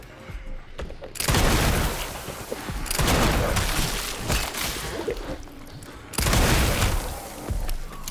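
Heavy gunfire and blasts in the survival horror game Resident Evil Requiem, dense loud bursts that surge and fade over several seconds, with rumbling booms mixed in and no clear speech.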